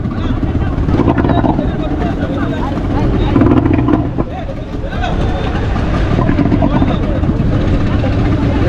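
Loud, steady droning of a boat's engine out at sea, rumbling throughout while someone speaks over it and other voices break in, dipping briefly midway.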